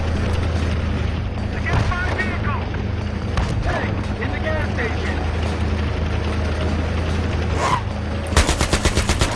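Gunfire in the Battlefield 3 campaign, rattling continuously under a dense rumble of vehicle and battle noise, ending in a loud, sharply spaced burst of automatic shots.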